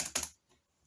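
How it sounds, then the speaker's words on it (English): A few quick keystrokes clatter on a computer keyboard, close and clear, bunched into a short burst followed by one faint tap and near silence. "The idea is I can use my computer keyboard."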